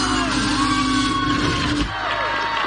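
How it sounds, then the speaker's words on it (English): An arena crowd at American Ninja Warrior cheers and whoops loudly in a dense, continuous roar, with a few louder yells standing out. "you can probably hear the excitement in this crowd"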